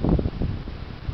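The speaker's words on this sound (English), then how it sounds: "You hear the wind? Listen to the wind." Strong gusts roar and rumble outdoors during a severe wind storm in Cambridge City, Indiana, a dense, buffeting low noise pressing on the microphone.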